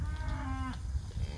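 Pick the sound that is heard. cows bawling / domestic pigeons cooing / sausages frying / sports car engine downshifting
cows bawling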